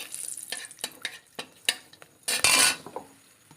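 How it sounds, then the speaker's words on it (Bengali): Two cloves and two pieces of cinnamon stick tempering in hot oil for a Bengali egg curry, with a light sizzle, metal utensil clinks and stirring scrapes building to a louder frying burst. "এখানে আমি 2টো লবঙ্গ আর 2 টুকরো দারচিনি নিয়ে নিয়েছি, সেটাকে ফোড়নের জন্য দিয়ে দেবো।"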